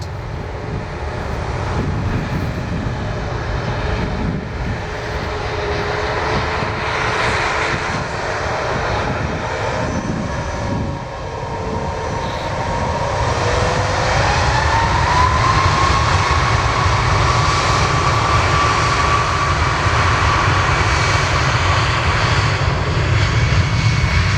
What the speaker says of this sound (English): And there goes that Max 8.